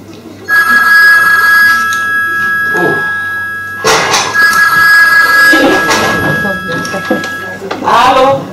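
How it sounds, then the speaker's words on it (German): A telephone rings with a steady, sustained electronic tone, nearly continuous through most of the clip, while people talk loudly over it. "Was ist denn das da noch? Ein Telefon."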